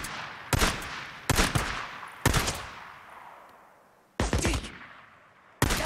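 Gunfire in the Days Gone video game: five loud, sharp bursts at uneven intervals, each trailing off into a long echoing decay, with no talking.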